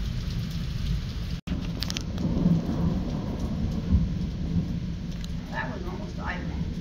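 Thunder rolls and rumbles through steady heavy rain during a May thunderstorm with plenty of lightning, a broad low booming swelling midway and again near the end, with a brief sharp dropout and no clear voices.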